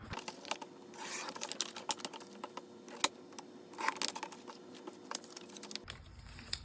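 Scissors snip through magazine paper, trimming it down to a three-inch strip. The crisp little cuts and paper rustles are quiet and close, coming in an irregular run with short pauses between them.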